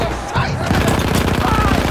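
Submachine gun fire in Battlefield 1, a World War One shooter: a rapid burst of closely spaced loud shots running continuously after a brief quieter start.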